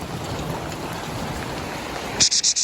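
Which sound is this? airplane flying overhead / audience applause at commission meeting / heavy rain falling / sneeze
heavy rain falling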